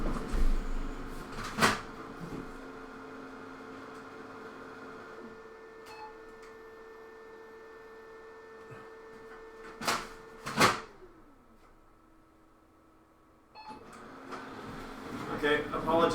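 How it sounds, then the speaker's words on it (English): An office printer with its paper tray opened whirs and hums steadily for long stretches, with sharp clicks and clunks of its mechanism scattered throughout, fairly faint in an indoor room. "someone opened the printer tray and somebody's trying to print"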